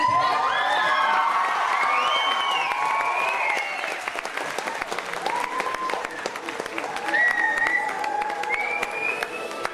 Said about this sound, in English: you can clap, you can holler and laugh and cheer